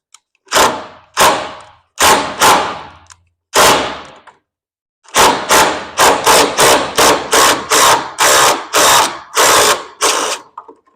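Rusty lower bolt on a split-window bus body being worked loose with a wrench: a series of sharp metallic ratcheting bursts, a few spaced strokes then a quick run of about ten rapid pulls, close and loud with no talking.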